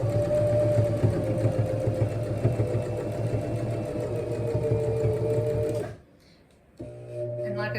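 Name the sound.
sewing machine chain piecing quilt pieces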